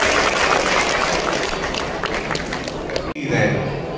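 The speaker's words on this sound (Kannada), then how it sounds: "ಒಳ್ಳೆ ಚಪ್ಪಾಳೆ" An audience at a Kannada stars' event in Dubai applauds loudly and steadily for about three seconds, with voices mixed in, before the sound cuts off abruptly.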